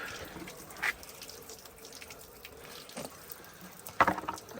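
Water from a bucket poured onto the lower door trim of a Kawasaki Ridge utility vehicle, heard as faint splashing and trickling with two brief louder gushes, no talking.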